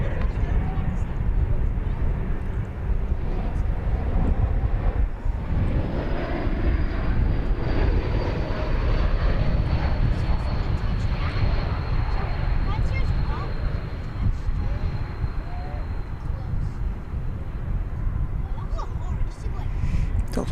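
A Delta airliner coming in to land at DFW Airport, its engine roar loud and steady throughout with a rising whine, close by and filling the scene.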